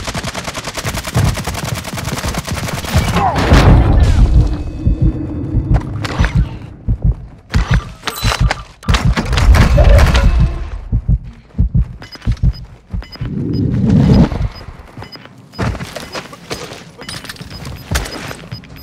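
Airstrike explosions in Call of Duty: Warzone 2 quads play, heavy thudding blasts and crackling bursts of gunfire coming in loud clusters with short quieter gaps between them.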